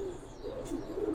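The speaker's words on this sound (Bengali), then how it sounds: "একটা কবুতর" A pigeon on a Bengali pigeon farm gives soft, low cooing in a continuous, close murmur with no talk over it.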